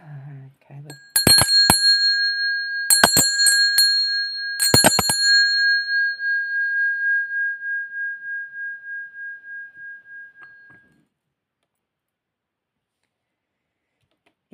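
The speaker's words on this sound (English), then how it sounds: "Ringing bells" Small hand-rung bells, like a bicycle bell, chime in three quick bursts of ringing, each sharp and bright, then a long sustained tone slowly fades away into silence.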